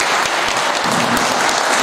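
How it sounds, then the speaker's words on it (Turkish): A crowd claps for a named club member at a football club's general assembly where a new president is elected; the applause is close, loud and dense, running steadily throughout with no talk. "Ayrı bir alkış alalım Ufuk için."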